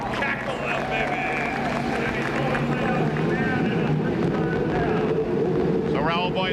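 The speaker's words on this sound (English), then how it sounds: "The rest of the field all starting their cars ready to go racing." CART race car engines fire up on the starting grid at Laguna Seca in 1995, a loud continuous roar of many motors with wind buffeting and commentary over the top.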